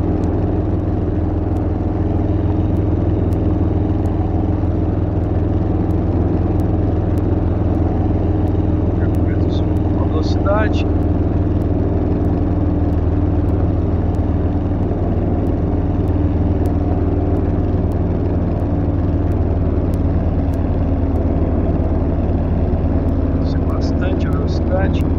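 A Rutan LongEZ light aircraft engine drones steadily on the landing approach to Port Hardy in a VR flight simulator, a loud, constant hum that holds for the whole stretch.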